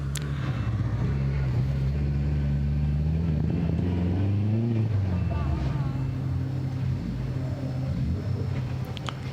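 Vauxhall Chevette rally car running along a forest rally stage, its engine a steady loud rumble that rises and falls in pitch as it works through the gears, with a commentator's voice talking over it throughout.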